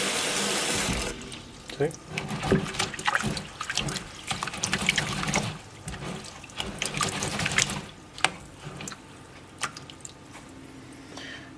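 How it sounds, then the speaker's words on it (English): Fodder seed being rinsed, with water pouring and splashing close by, followed by sloshing and dripping in uneven bursts, and a voice speaking briefly. "Now what I'm going to do is rinse my seed again."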